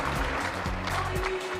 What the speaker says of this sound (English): another round of applause for our top four